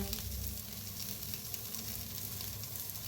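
Eggplant coated in masala fries on a hot tawa with a steady, close sizzle and crackle, continuous and even with no talking.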